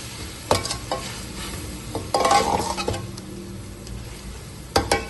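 Crushed chillies and chicken powder being stir-fried in a pan for a Chinese-style biryani, a soft sizzle under repeated spatula scrapes and clinks against the pan, close and alone.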